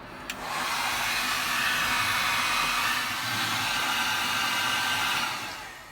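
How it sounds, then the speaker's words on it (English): A heat gun blows hot air to dry a part on a classic VW during clutch pedal removal, a loud, steady whooshing roar that starts with a click and runs continuously for several seconds. "let me just go ahead and get my heat gun heated up so that it dries out faster"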